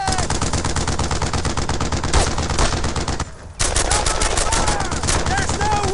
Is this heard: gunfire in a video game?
yes